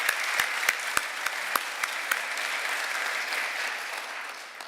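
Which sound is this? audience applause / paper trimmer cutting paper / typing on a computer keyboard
audience applause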